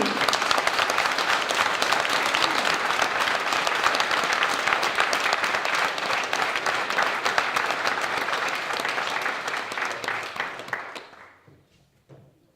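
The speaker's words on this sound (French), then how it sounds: "On peut l'applaudir fort au candidat numéro 9" Sustained loud applause from a conference audience greeting candidate number 9, dense clapping that holds for about eleven seconds before thinning and fading out to near silence.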